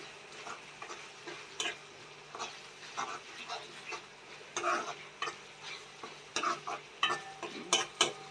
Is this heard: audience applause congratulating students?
no